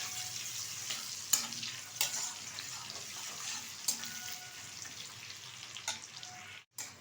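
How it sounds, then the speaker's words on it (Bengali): Two bay leaves and chopped onion frying in oil, a soft continuous sizzle close by with occasional spatula taps and scrapes, a brief silence near the end before the sizzle resumes. "এখন এই তেলে দিয়ে দিচ্ছি দুটো তেজপাতা, দিয়ে দিচ্ছি কিছুটা কুচিয়ে রাখা পেঁয়াজ। একটু ভালোভাবে ভেজে নেব পেঁয়াজটা।"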